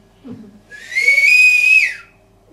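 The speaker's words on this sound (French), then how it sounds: "Une femme qui siffle comme ça, des deux doigts dans sa bouche." A woman gives a loud two-finger whistle, a single piercing sustained tone lasting about a second with a short rise at the start and a drop at the end, preceded by a faint brief sound.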